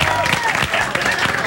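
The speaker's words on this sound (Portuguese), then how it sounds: "Os aplausos." A studio audience at a television show breaks into a brief burst of dense clapping, loud and close, with a voice mixed in.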